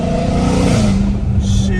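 A Dodge Hellcat Redeye fitted with catless exhaust pipes accelerates hard, a loud, close, steady engine drone with a shifting pitch, heard from inside the car.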